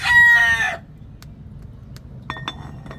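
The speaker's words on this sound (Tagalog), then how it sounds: "talagang maririnig mo ang manok dito kasi may mga alaga kasi nasasabonging manok yung aking bayaw guys" A fighting rooster kept in a rural yard crows once, loud and close, followed by quiet yard ambience with a few faint clinks.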